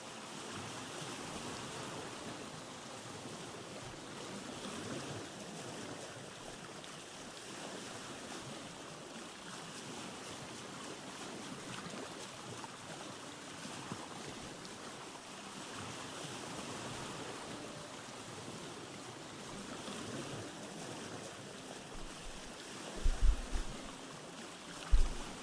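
A boat sails on open water in the survival game Vintage Story, with a steady, faint wash of waves and wind running unbroken and a couple of soft bumps near the end.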